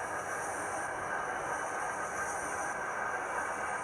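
Model railway Wind Cutter train running along its track toward a mainline homing signal: a faint, steady rolling rumble and hiss, continuous and distant, with no talking.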